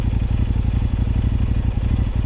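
Kove 800 X Pro motorcycle engine running in sport mode, a loud, steady throbbing drone with a rapid pulsing rhythm and a constant low rumble.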